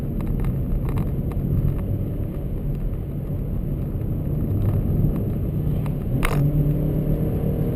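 A 2018 Ford KA+ driving on a road and overtaking near a crest, with steady engine and road noise throughout and a brief sharper swell late on.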